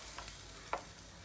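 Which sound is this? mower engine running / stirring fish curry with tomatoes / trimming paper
stirring fish curry with tomatoes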